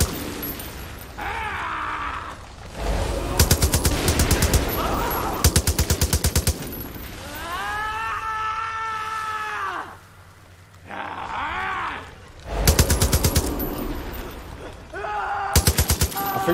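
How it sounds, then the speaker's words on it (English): Rapid bursts of gunfire and explosions from a console shooter game on Xbox One or PS4, loud repeated volleys punctuating a busy mix, with a groaning tonal voice and other game effects between the blasts. "Explosion here! Explosion there!"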